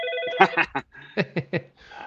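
A phone rings with a repeating electronic ringtone, its tonal bursts sounding close and clear alongside brief bits of nearby voice.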